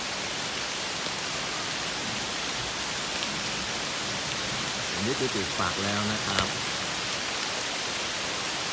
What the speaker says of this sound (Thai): วันนี้ฝนตกนะครับ วันนี้ฝนตก